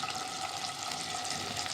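Long boneless chicken strips fry in oil and butter in a pan, giving off a soft, continuous sizzle, close by and fairly quiet, with no voices.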